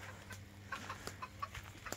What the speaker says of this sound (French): cette année j'ai réussi à obtenir des jolies poules saumon